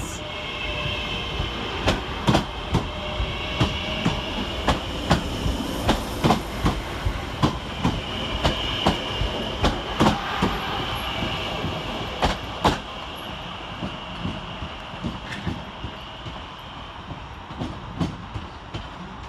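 Northern class 323 electric multiple unit 323237 running through Manchester Piccadilly station, with steady rolling rumble and a regular clickety-clack of wheels over rail joints, close and continuous throughout.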